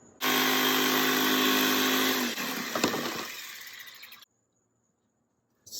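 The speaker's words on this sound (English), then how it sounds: "Now I just have a Ryobi jigsaw that I'm cutting the board with" A Ryobi jigsaw cuts through a skateboard deck with a loud, steady buzzing motor whine for about four seconds, roughening as the blade bites, then cutting off abruptly into silence.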